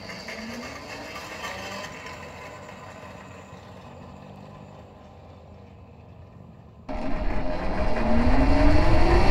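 Electric motorcycle with a QS 180 90H hub motor on a test ride in third gear, a steady whirring motor and road rumble that jumps louder and rises in pitch near the end as it speeds up.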